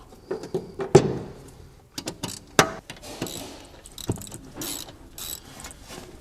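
Ratchet tightening rear brake caliper bolts on a Jaguar XF, close bursts of clicking and metallic clatter in irregular short runs, with tool knocks and handling noise between, no talking.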